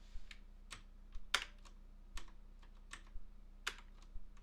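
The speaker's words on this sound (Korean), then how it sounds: "컨트롤 쉬프트를 누른 상태에서 엔터를 누르세요." Keys pressed on a computer keyboard to enter a spreadsheet array formula with Ctrl+Shift+Enter, heard as a handful of sharp, separate clicks spaced irregularly over a quiet low hum, with no talking.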